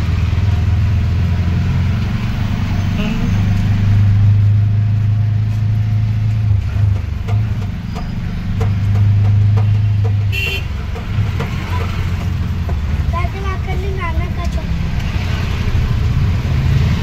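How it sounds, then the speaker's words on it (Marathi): An auto rickshaw engine runs with a low, steady rumble and idling drone up close, with a horn toot and faint voices heard over it. "आमच्या मॅडम आता रिक्षा चालवतात."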